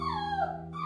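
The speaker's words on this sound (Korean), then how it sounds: "짖기 시작하는 리코" A dog whimpers and yips alone in a home, a single drawn-out high whine over a steady background hum, near and moderately loud.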